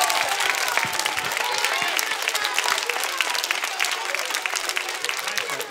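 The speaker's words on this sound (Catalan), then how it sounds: "el tercer aplaudiment, el més fort de tots, per vosaltres mateixos i mateixes" Loud, dense applause from a theatre audience at a children's cantata, sustained clapping throughout with no pause.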